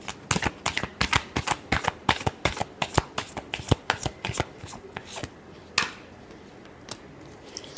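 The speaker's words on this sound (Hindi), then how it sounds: "last shuffle" Deck of playing cards being shuffled up close: a quick run of crisp riffling flicks and snaps in rhythmic bursts, then slowing to a few isolated taps.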